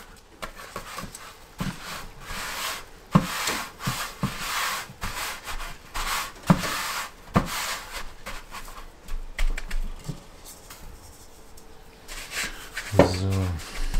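Dry spice rub being worked by hand into a slab of bacon, a steady close scratchy rubbing with short strokes and pauses, alone without talk.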